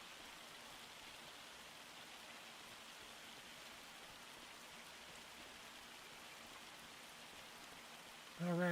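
Steady rain falls in Farming Simulator 25, a constant, even hiss that runs unbroken and alone for the whole stretch, ending with a brief louder tonal burst.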